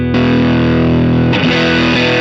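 Electric guitar through a KMA Machines Minos germanium fuzz pedal, a thick, heavily distorted sustained note with the input turned up, a heavy low end and a brief pick change near the end, loud and close.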